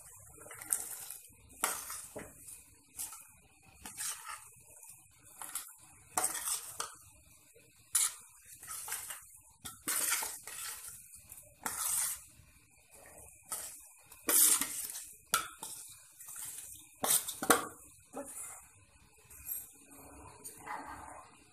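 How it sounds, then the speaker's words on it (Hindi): Repeated metallic clinks and scraping bursts from a pot of boiling water as rice is shaken in and stirred at close range for chana pulao, no one talking. "अब हम शामिल कर रहे हैं चावल इसमें।"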